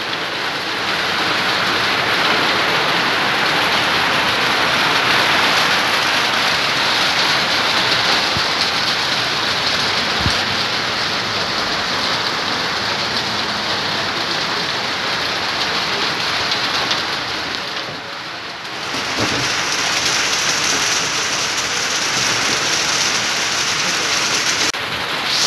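Rain mixed with hail comes down at a pond near Taudaha lake in Nepal, a dense, steady hiss and patter on the surface that barely lets up for the whole stretch, with no voices.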